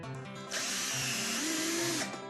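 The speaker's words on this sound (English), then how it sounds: "When Candace gets better acquainted with the drill, she starts screwing." A power drill drives screws into wood, its motor whine rising from a quiet start into a steady loud drone with a pitch swell near the end, alone and close.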